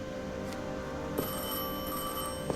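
A telephone ringing continuously over a low steady background with sustained tonal lines, fairly clear and moderately loud with no talking, a long-distance call coming in.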